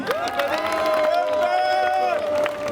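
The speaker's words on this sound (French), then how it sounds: "Son vice-président, Lassina Diabaté, que je vous demande d'applaudir." A crowd at an RHDP political rally of supporters in the USA claps and cheers in a dense, continuous wash of noise. A long sustained tonal sound rings above it for most of the moment.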